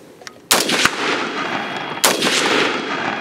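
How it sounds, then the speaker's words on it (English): Two loud, sharp rifle shots fired from the prone position outdoors, about a second and a half apart, each followed by a long echoing rumble, close and alone. "So go ahead and fire a couple rounds."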